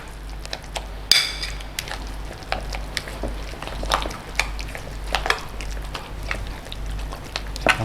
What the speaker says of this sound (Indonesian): lalu gue aduk nih ya. Nah, gue aduk sama si cream cheese-nya